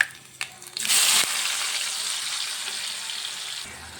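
Ground masala paste hits hot tempering oil for a saag dish, a sudden loud crackling sizzle that settles into a steady hissing fry, close and alone.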